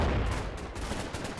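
Gunfire in Combat Mission: Battle for Normandy, a steady, dense crackle of shots at the Battle of Villers-Bocage. It sounds like a continuous loud burst with no pauses and no voices.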